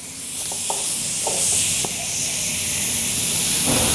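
An air chuck hisses steadily as it pressurizes a Mopar fabric protector spray container, a continuous close rush of air with a few faint clicks near the start.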